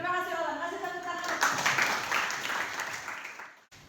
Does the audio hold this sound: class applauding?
yes